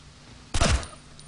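A single loud burst of gunfire in the Ghost Recon Future Soldier video game, a sharp, close shot lasting about a quarter second against quiet background.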